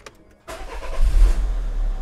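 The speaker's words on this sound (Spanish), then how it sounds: "voy a encender el coche" A car engine cranks and catches after a short quiet moment, then settles into a loud, close, steady low idle rumble, with no voices.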